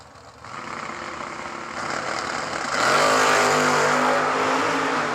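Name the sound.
classic Chevy Malibu and Camaro drag racing off the starting line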